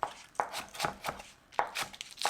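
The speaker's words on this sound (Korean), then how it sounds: "두부는 마지막에 썰어줄 거니까 깍둑 썰기로 제가 썰어 보겠습니다" A knife dices tofu into cubes on a cutting board, giving five or six soft, close thuds in an uneven rhythm, quiet and alone.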